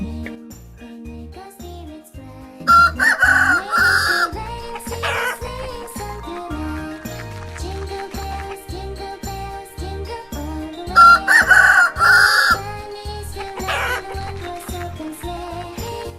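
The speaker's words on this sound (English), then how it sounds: "chicken," A rooster crows cock-a-doodle-doo twice, loud and clear, about eight seconds apart, over a bouncy children's cartoon music beat.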